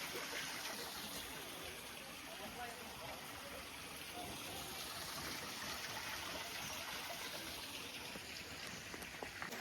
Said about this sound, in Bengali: ওই দেখো জল পড়তেছে পাহাড়টা